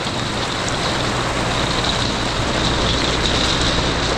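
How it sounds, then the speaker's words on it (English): Steady, dense rain drums on a pop-up camper tent at a Kentucky lakeside campsite, a loud continuous hiss with no voices. "Loud rain."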